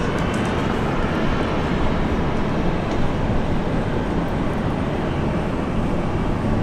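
A QantasLink Dash 8-400 turboprop airliner takes off at Brisbane, a loud, unbroken engine roar that stays steady and close across the whole stretch, with no one speaking.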